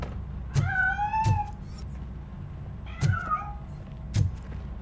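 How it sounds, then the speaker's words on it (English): A cat in the video game Robocop Rogue City meows, with four short meows spaced over a few seconds, fairly faint over a low background hum and no talk. "That cat must be hiding inside."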